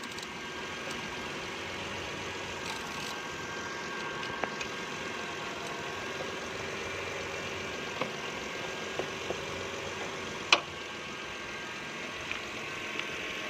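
A Mitsubishi Pajero engine idles steadily with the battery removed, a continuous even hum with a few small clicks and knocks scattered over it, and no one speaking.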